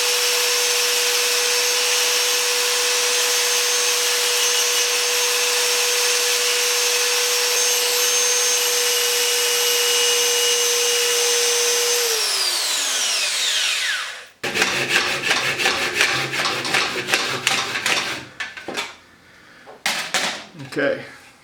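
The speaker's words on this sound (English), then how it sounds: "I'll be able to hit with the power sander" A power sander works on wood in a workshop, a loud, steady whine that winds down midway, followed by scattered knocks and handling noises.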